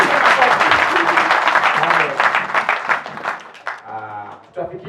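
Church congregation at an ordination service breaking into loud applause that fades over a few seconds, then someone speaks as the clapping dies away.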